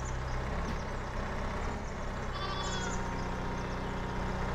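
A goat bleats in Farming Simulator 22, a few wavering calls over a constant engine drone and farm machinery background, no speech.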